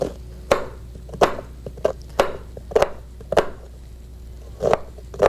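Sharp knife chops cutting into a vegetable root strike a cutting board in an uneven series, about a dozen crisp thuds close by, with brief pauses between strokes.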